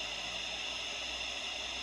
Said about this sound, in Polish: Niestety cisza na UKF, jest sam szum